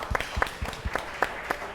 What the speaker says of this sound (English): Round of applause to all of you this evening.